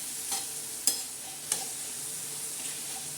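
Green chili, tomato and garlic thecha sizzles in a pan under a steady frying hiss, with a few sharp scraping stirs of a utensil against the pan.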